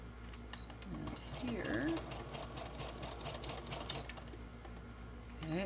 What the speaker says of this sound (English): I see a few different places here that I need to sew